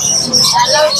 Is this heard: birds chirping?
yes